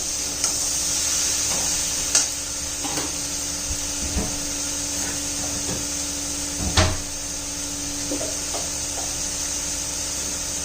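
Dhemsa, a round gourd, sautéing in a pan, with a steady soft sizzle broken by a few sharp spatula scrapes and clinks against the pan, close by and without speech.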